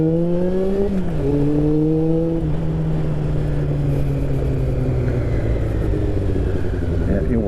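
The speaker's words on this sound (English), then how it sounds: "there's too much traffic." Road traffic passing with engines droning and shifting pitch, a steady loud vehicle rumble throughout that rises and falls as cars go by.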